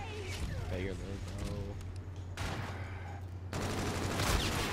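Video game gunfire rattles in bursts, loud and close, with excited players talking over it.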